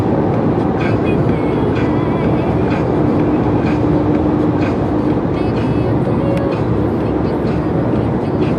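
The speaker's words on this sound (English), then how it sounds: "It's the terminology for a train heading back to the yard," An empty deadhead train rolls back toward the yard near the Grand Canyon, a steady loud rumble of wheels and cars passing close with faint clicking, continuous throughout.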